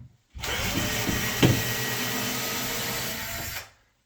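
A powered screwdriver backs screws out of a closet rod bracket, giving one loud, steady whirring drone of about three seconds that starts and stops abruptly.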